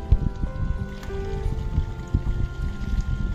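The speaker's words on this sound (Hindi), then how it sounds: "तो देखो वहाँ से पानी भर रहा है" Water runs in a mountain stream on the Kheerganga trek in Himachal, a low, steady rushing flow with gusty rumbling, close and fairly loud throughout.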